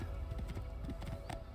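Rapid, even clip-clop of horse hooves from a galloping mount in Assassin's Creed 2, steady and moderately close over a low ambient game bed.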